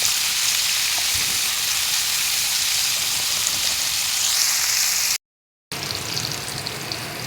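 Onions frying in a pan for a pomfret fish bhuna give a steady, loud, dense sizzle that runs unbroken, cuts out briefly, then carries on just as strongly, with no talking.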